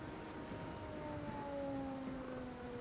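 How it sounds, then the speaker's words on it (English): A distant siren wails in a horror video game, a faint, sustained rising and slowly falling tone over a dull ambient rumble, heard alone and quite quiet. "siren. Blares."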